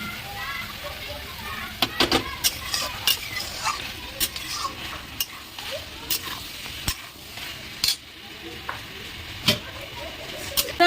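Desi chicken pieces frying down (kosha) in a pan in village style: a steady sizzle under repeated sharp scraping strokes of a spatula against the pan, close and fairly loud throughout.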